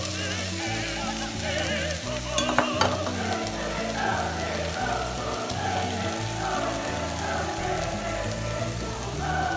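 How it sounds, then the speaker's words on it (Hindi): Keema with peas, potatoes and spices frying and being stirred in a small pan, giving a steady close sizzle throughout with a few brief clinks near the middle. "तो अब हम इसमें ऐड करते हैं बाकी मसाले और ये मटर और आलू, अब मिक्स कर लेंगे सारा कुछ"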